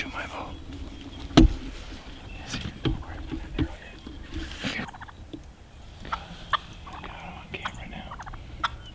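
Wild turkey toms gobble in the field during a South Dakota hunt, with several rattling gobbles in bursts among rustling and outdoor noise while people talk quietly nearby.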